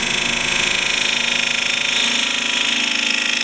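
A turning tool cuts across the grain of a wooden box spinning on a lathe, giving a steady, close, continuous whirring hiss with a faint tonal hum and no talk.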